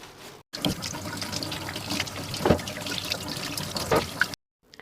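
Carrots for homemade şalgam (fermented turnip and carrot) juice are rinsed in water, giving a steady splashing, trickling wash with a few louder sloshes, close and continuous with no talk.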